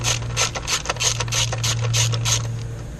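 A ratchet wrench clicking rapidly as a bolt is loosened on the ignition coil of a 2002 BMW 325i, a close series of quick ticks over a steady low hum.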